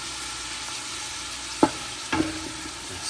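Fresh curry leaves hit hot masala gravy, giving a steady loud sizzle and frying hiss with a couple of sharp pops and stirring knocks.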